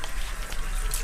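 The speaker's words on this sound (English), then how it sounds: "I get another 5-gallon bucket, and I fill it up with hot water" Hot water runs steadily from a slop sink tap in a prison setting, a continuous hissing stream with no talking.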